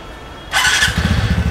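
A new scooter engine starting for the first time, with a short starter whir and a squeal that catches into a low, sputtering idle, close and loud, with no talking.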